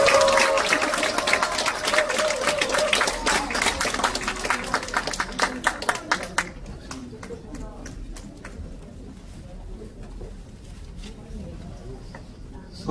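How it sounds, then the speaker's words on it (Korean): Audience applause after a lecture by a Democratic Party research institute head at a Cheongju basic-society committee event, dense clapping filling the room for several seconds, then thinning out into scattered claps with murmuring. "다시 한번 큰 박수 부탁드리겠습니다"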